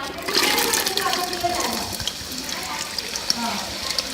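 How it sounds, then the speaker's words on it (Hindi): Taro root (arbi) sizzling as it drops into hot ghee for aloo arbi fry, a loud broadband hiss that peaks early and settles into steady crackling frying. "घी के अंदर हम जो अरबी फ्राई करेंगे, अरबी डाल देंगे"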